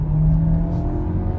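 A 2022 Volkswagen Tiguan's small 1.5-litre petrol engine revs loudly and steadily for about a second and a half, a low droning roar with a rising pitch as it holds under load.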